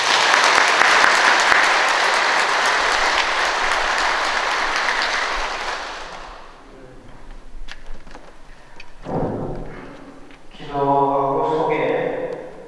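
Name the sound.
audience applause welcoming the priest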